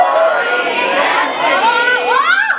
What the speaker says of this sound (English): Everyone scream, Dory, Destiny.